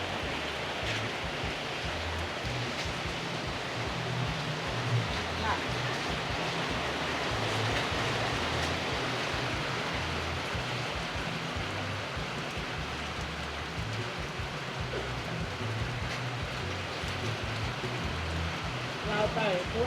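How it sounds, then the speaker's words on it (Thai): Steady rain falls throughout, a dense, even hiss of drops with a constant level and no clear pauses, while faint voices occasionally sit beneath the wash. "ฝนตก"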